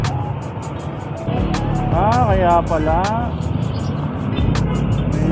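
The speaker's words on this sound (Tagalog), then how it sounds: "Grabe, inaabot pa ng traffic." Road traffic from inside a Lalamove delivery vehicle stuck in Sunday congestion: a steady low rumble of engines and passing vehicles running beneath someone talking almost throughout.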